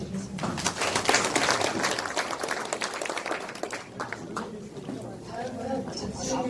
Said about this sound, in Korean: 장시간 수고해주신 시장님께 박수 한번 부탁드리겠습니다